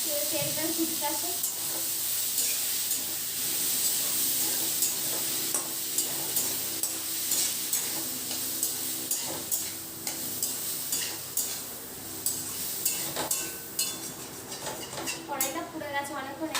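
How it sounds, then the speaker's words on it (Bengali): Hot oil spits and crackles in a burnt wok while leafy greens fry, a steady hiss broken by sharp, irregular pops that grow busier toward the end, with a voice briefly audible early on. "ভয় লাগে তেলটা ছিটকাছে।"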